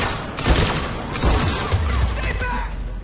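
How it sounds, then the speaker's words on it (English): Sentry cannons firing in the Mass Effect video game, a dense burst of rapid gunfire and crashing impacts over about three seconds, loud and continuous, with a voice talking over it. "sentry cannons, look at the amount of damage they do"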